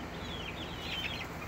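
Chicks cluck and peep softly near a coop at bedtime, brief scattered calls over a steady outdoor background with no talking.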